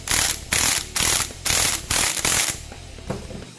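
Impact gun rattling in six bursts, each about half a second long with short gaps between them, fastening a Raptor 700 clutch boss while the clutch plates are held down, close and loud, ending with a softer tail.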